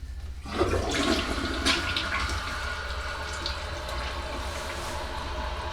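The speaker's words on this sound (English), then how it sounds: "we can flush it here in a minute and see if any water comes up" A toilet flushes after its wax ring has been replaced, a close, loud whoosh that swirls down and gives way to the steady hiss of the tank and bowl refilling.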